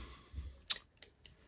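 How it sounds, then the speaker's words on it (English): Scissors snip spun hair off the top of a Grannom caddis emerger fly at a tying bench, a few sharp close metallic clicks spaced apart against near silence. "now we're going to take our scissors and clip off the top"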